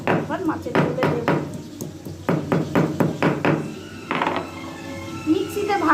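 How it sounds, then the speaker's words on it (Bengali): Ginger, soaked dried chillies and cumin are ground on a stone slab, making a close run of rhythmic scraping and knocking strokes in uneven bursts, with a voice heard at times. "আমি শিলেই মশলা বাটছি"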